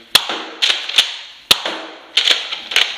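A Nerf Deathdealer 2.0 dart blaster fires in close, sharp mechanical snaps, several shots in uneven pairs and triplets with a short clatter after each.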